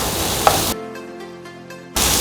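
Flat beans in a pan hiss and sizzle while being stirred, with a brief scrape near the start; the frying noise cuts out into a quiet gap before it returns loud at the end.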